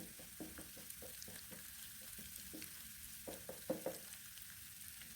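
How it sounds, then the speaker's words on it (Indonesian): Eggs scrambled and frying in a pan for fried rice vermicelli, a low steady sizzle broken by repeated scraping strokes of a spatula, a few louder near the end, with no talk. "Setelah itu diorak-arik dulu ya telurnya ini sampai ngeset"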